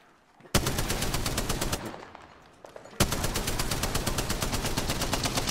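Video game rifle fire comes in two sustained automatic bursts of rapid, evenly spaced shots, loud and close. A brief lull separates the bursts.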